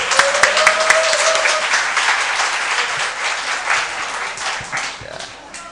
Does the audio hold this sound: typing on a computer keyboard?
no